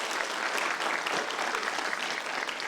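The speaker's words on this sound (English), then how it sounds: "let's give them a good round of applause." Audience applause at a pitch event, a dense wash of many hands clapping steadily throughout, fairly distant and even in level with no one speaking over it.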